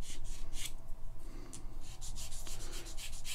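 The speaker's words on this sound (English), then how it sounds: "Come in with a sanding sponge and just gently take that down." Sanding sponge gently rubbing down a nub on a plastic part of a 1:35 scale Dragon Saladin British armoured car kit, giving soft, close scratchy strokes in an irregular rhythm with no talk.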